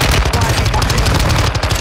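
Rapid automatic gunfire in the battle royale shooter Warzone 2.0, loud and dense, with bursts rattling continuously over a busy game mix and faint voice chatter.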